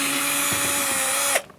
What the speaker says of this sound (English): using a Phillips screwdriver or drill bit.